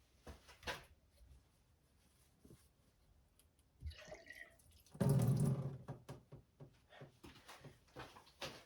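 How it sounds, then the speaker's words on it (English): Water is splashed and dribbled while cleaning a part of a Panasonic R-1551 AM radio during repair, with faint drips, a brief louder rush of splashing midway, then scattered small clicks and trickles. "I'm just gonna clean that out a little bit, just with some water."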